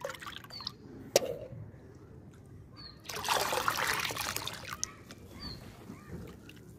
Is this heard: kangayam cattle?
no